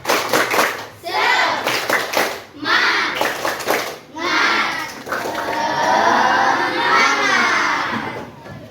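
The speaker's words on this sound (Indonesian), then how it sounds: "kita tepuk semangat dulu. Tepuk semangat." A class of children does a rhythmic spirit clap in bursts, followed by a longer stretch of lively group clapping and excited shouting.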